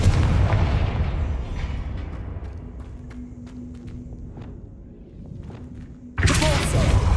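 The Confringo blast spell in Hogwarts Legacy: a heavy explosive boom fades into a long rumbling tail with scattered thuds and steps, then a second loud burst erupts near the end.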